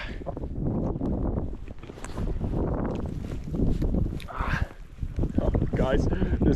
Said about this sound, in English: this wind is like just making this very difficult